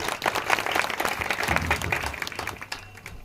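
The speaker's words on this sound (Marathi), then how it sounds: "त्यांच्या नावाने एकदा टाळ्या वाजवा" Audience applause at a Warkari kirtan held for a death anniversary: dense, steady clapping from a crowd lasting the full three seconds, tapering slightly toward the end.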